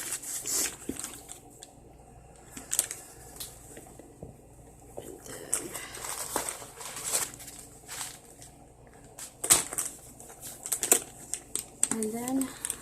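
A Coach Troupe bag being unwrapped gives irregular crinkles, rustles and soft taps from packaging material, close and moderately quiet, with a person talking intermittently over the handling.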